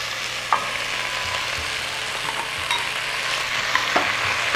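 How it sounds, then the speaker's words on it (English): Two large onions fry and sizzle in a pot for beef in Guinness, a steady hiss broken by occasional soft scrapes of stirring, close and alone with no talking. "And I'm going to add in our onions."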